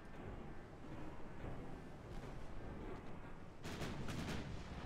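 Heavy 13-inch naval guns firing in the Ultimate Admiral Dreadnoughts game, a low continuous booming rumble with several sharper cracking blasts, the loudest burst near the end.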